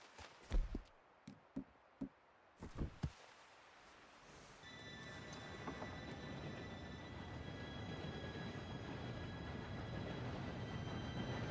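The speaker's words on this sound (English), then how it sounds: "Train should be here any minute now." A train approaches in the Western video game Red Dead Redemption: a few sharp knocks come first, then a steady, swelling rail rumble takes over, threaded with thin high metallic squeals that hold to the end.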